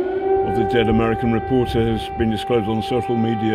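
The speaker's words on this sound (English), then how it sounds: "You can hear that the air raid siren is going off again." An air raid siren in Kyiv wails steadily in the background while someone talks over it.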